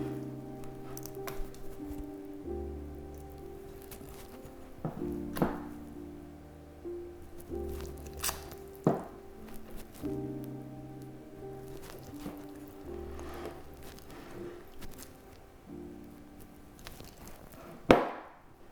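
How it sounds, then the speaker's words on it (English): Soft, sticky squelches and slaps of sourdough being stretched and folded by hand, sporadic and close, with a faint steady hum in the background. "we are going to do another set of stretch and folds"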